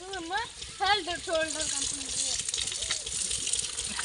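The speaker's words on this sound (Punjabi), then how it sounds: "ਨਾਲੋ ਨਾਲੋ ਪਾਓ ਸਿਰ 'ਚ ਪਾਣੀ" Water is poured over someone's head while bathing outdoors in summer heat, a rushing splash that builds after a voice talks over the opening seconds.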